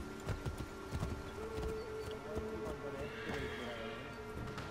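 Horse hooves clip-clop in the game Assassin's Creed III, with whinnies among them, moving steadily against background game sound and music; a voice speaks over them.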